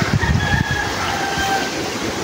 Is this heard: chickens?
yes